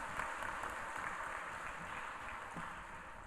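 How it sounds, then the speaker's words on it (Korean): Applause from a church congregation during a Korean worship service, a steady broad wash of many hands clapping at moderate distance with no voices over it. "우리 뜨거운 박수 한번 다시 한번 보내주세요"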